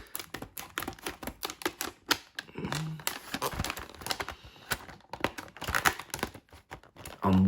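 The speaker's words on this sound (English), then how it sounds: "So right, let's cut it open." Plastic packaging around two McFarlane Stranger Things Page Punchers figures, Will and the Demogorgon, is cut open with a run of close, sharp snips and crinkles, busy and irregular throughout, with no talking.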